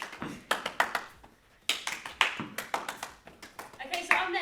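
Sharp hand claps repeat in quick bursts during a kids' fitness activity while a dropped ball falls to the floor, with brief pauses between groups of claps.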